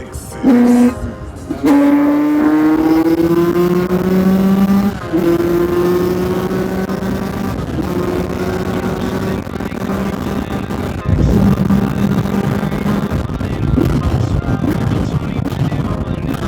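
A car engine revs hard through rising gears at high speed on the road, each pull climbing in pitch before a shift, loud and close in the cabin, with a brief voice near the start.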